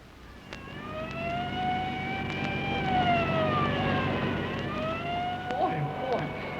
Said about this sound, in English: These police cars are sure made to go when they have to.